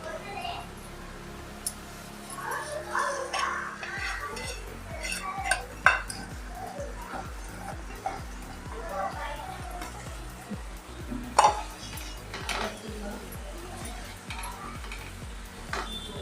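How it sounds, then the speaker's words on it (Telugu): A pot of Telugu-style fish curry being stirred after fish pieces are added, with soft scraping, clinks of a utensil against the pot and faint sizzling under a voice talking throughout. "చేప ముక్కలు వేసుకొని కలుపుకోవాలి"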